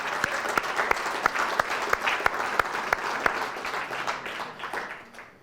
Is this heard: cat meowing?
no